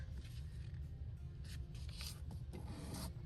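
Paper is folded and creased by hand to make a junk mail booklet, giving a close, continuous rubbing and scraping sound with a few brighter swishes, alone with no talking.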